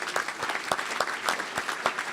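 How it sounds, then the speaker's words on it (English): An audience at a Rotary club luncheon claps steadily and fairly close for a couple of seconds, a dense patter of many hands with no voices over it. "Let's give the icons a big round of applause."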